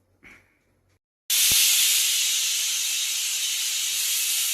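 A steam whistle on a lidded pot blows while cooking: after a brief quiet moment it bursts into a loud, steady, hissing rush of steam that carries on without a break to the end.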